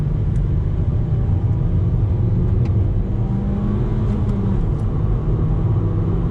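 A 2018 Nissan Sentra NISMO with a 6-speed manual slows under braking, its engine rumbling and shifting pitch as the revs change, heard as a steady close drone from inside the car.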